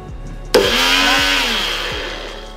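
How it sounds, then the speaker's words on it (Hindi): A kitchen blender switches on abruptly and grinds quinoa, a loud, steady whirring roar with a rattling edge that holds for about two seconds and then slowly eases. "किनुआ, इसको अब मैं डाल दी ब्लेंडर में।"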